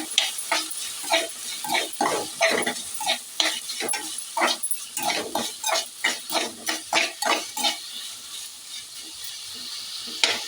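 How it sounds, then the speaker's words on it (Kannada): Spices with turmeric powder being fried and stirred in oil for vangi bath, a run of scraping stir strokes and crackling sizzle bursts in an uneven rhythm, close and fairly loud, easing off toward the end. "ಸ್ವಲ್ಪ ಅರಶಿನ ಹುಡಿ ಹಾಕಿ ಫ್ರೈ ಮಾಡಬೇಕು."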